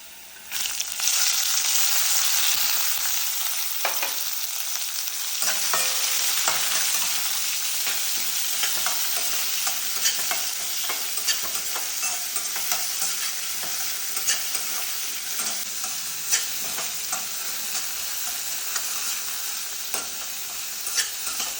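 Onion sizzles steadily in hot oil alongside roasted chana dal, with intermittent scraping and clinks of a spoon stirring the pan, close and continuous.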